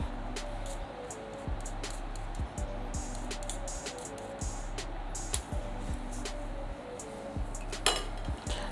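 Dry brownie ingredients are sifted through a sieve, giving a steady close rustle with regular light metallic taps and clinks, over a low constant kitchen hum.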